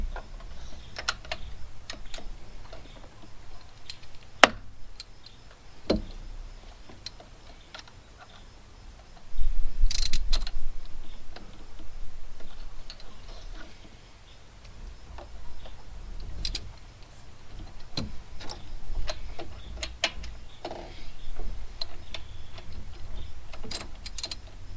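Sharp, scattered clicks sound at uneven intervals from a torque wrench checking bolt torque on a Lexus LX470, with one louder snap early and a denser burst around the middle, over a quiet workshop background with no talking.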